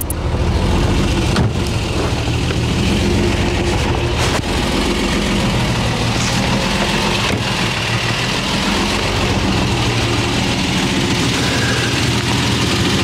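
A car engine idling steadily, heard from outside the vehicle at close range, a constant low rumble with slight vibration and no talking.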